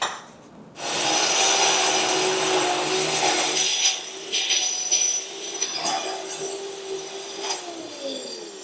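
A floor grinding machine works an 80-year-old concrete floor with a loud, continuous abrasive whir and rasping scrape that runs steadily for several seconds after a brief quieter start.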